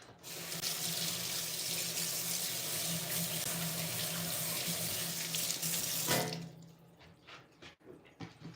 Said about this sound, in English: Hang on, let me wash up here.